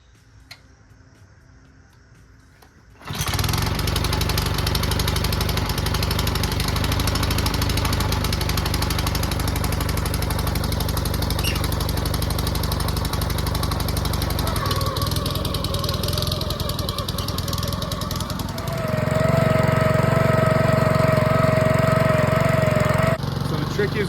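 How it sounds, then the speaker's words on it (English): A Bobcat lawn aerator rented from Home Depot, its tines locked down and driving forward across a lawn, runs with a loud steady engine drone and rapid rhythmic punching, grows louder partway through, and carries no talk. "This is a Bobcat aerator that I got from Home Depot rental."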